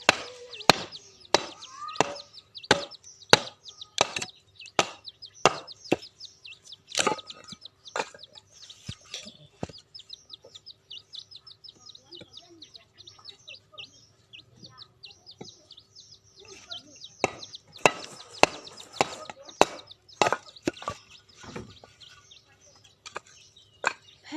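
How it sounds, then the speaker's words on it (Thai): Firewood is split by chopping outdoors for cooking rice: sharp, repeated wooden chops in irregular bursts, with chickens clucking and birds chirping in the background and occasional voices. "จะโชว์สกิลการผ่าฟืน"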